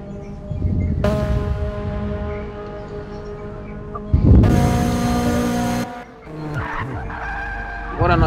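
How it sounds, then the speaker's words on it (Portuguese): Race car engines whine in the Forza Motorsport 6 video game during a virtual WTCC race, with sustained high-pitched revving, a sharp tire squeal midway and gear changes, loud and near, under a commentator's voice. "estamos escutando um barulho de motor, é o carro do Gruber. O Gruber deu ali uma escapadinha, cantou uns pneus ali e vai retornar"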